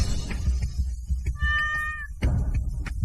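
A small cat gives a clear, fairly close meow in the middle, set against a low background rumble with a few soft knocks around it.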